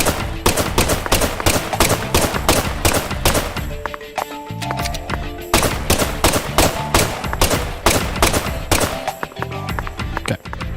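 Dense, rapid bursts of gunfire in the video game Deadly Premonition 2, loud and close, with repeated automatic volleys broken by a brief lull before the shooting resumes.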